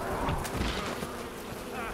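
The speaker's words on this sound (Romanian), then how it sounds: "Bă, mă lua și pe mine albinele." A swarm of bees in the video game Far Cry Primal attacks with a dense, close, continuous buzzing that fills the moment at fairly loud volume.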